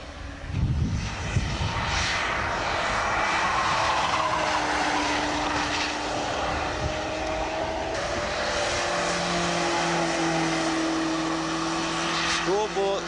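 A Porsche race car takes a turn during a track-day session at Bridgehampton, its engine a steady, sustained drone with shifting pitch held throughout, with people talking over it.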